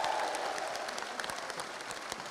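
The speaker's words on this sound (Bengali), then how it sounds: "আফরোজা আব্বাসকে দুই হাত তুলে একটা করতালি দিয়ে অভিনন্দন দেন।" A crowd claps steadily at an outdoor political rally, dense continuous applause with a few sharper claps standing out, fairly close and even in loudness throughout.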